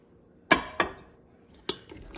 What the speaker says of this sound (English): try to get some of that to come off of the bottom by scraping it a bit